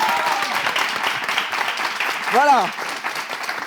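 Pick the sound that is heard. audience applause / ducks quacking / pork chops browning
audience applause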